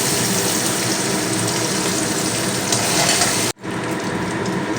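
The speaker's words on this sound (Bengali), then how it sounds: "হয়ে গেছে আমি পনিরগুলো এবার উঠিয়ে নেব কড়াই থেকে" Paneer frying in oil in a wok, a loud, dense bubbling sizzle close up that cuts off abruptly near the end, leaving a quieter background.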